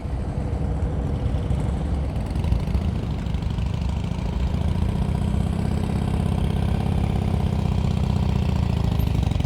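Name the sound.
Harley-Davidson motorcycle engine shaking at low throttle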